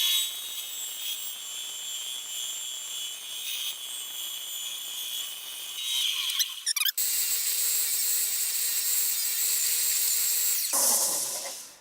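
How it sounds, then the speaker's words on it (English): Bandsaw trimming excess material off a DIY GoPro pegboard mount, a steady high whine with a brief cut, then a louder sustained running tone that stops abruptly near the end, close and without talk. "Now we will go trim off this excess on the bandsaw"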